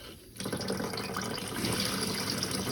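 Water rushing back into a toilet cistern after a blockage is cleared, a steady full-pressure gushing fill that starts just after a short quiet moment and continues evenly and fairly close, with no voices.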